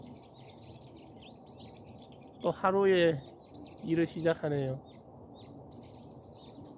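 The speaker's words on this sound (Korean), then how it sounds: "새소리 들리시나요?" Small birds chirp and tweet faintly in short repeated calls on a rural farm in the morning, continuing in the background while someone speaks.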